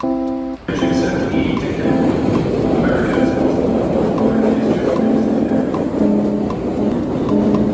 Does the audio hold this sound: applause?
no